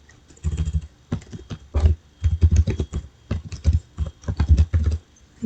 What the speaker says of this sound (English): let me just type random data